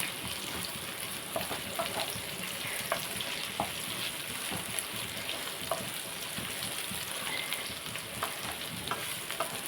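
Bitter gourd (kakarakaya) pieces fry in hot oil in a pan with a constant close crackling sizzle and occasional scraping stirs, no talking.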